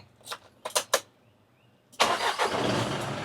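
A diesel engine on an Isuzu NMR130 six-wheel truck starts up close by after a few faint clicks and key sounds, catching with a sudden loud roar that settles into a steady rumbling idle.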